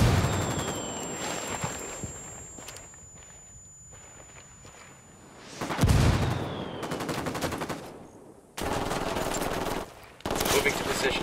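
Gunfire erupts in the video game Ghost Recon Wildlands as soldiers open fire, loud rattling automatic bursts separated by pauses and mixed with footsteps and shouted combat talk.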